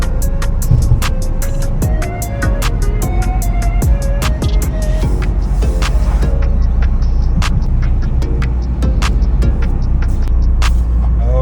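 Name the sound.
Toyota GR Corolla driving on road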